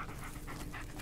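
A dog in the Blair Witch video game pants quietly in quick, rhythmic breaths, soft and close, with no talking.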